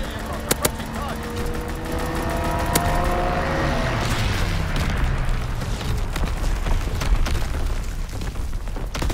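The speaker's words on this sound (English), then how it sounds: "Incoming enemy artillery. Get to cover." Artillery shells burst in a Call of Duty: WWII match, a few sharp booms early on, then a continuous loud rumble of blasts and battle noise with voices talking over it.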